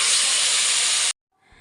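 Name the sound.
chicken added to frying potatoes, sizzling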